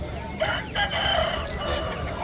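An Aseel rooster at a Monday chicken market in Hindiganala gives a single strained crow, fairly near, over a low murmur of market noise.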